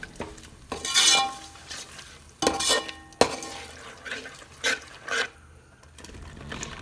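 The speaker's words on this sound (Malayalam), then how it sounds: "വറുത്ത് വന്നതിലേക്ക് നേരത്തെ പിഴിഞ്ഞ് വെച്ച വാളൻപുളി ഒഴിച്ചു കൊടുക്കാം" Tamarind water is poured into sambar masala frying in a pan, giving several bursts of sizzling and splashing, followed by quieter stirring and scraping against the pan.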